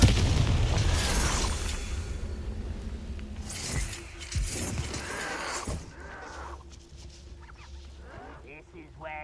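A Confringo fire spell blasting in the Hogwarts Legacy video game, heard as a loud booming burst near the start followed by further thuddy impacts and fading crackle, with a voice speaking over it.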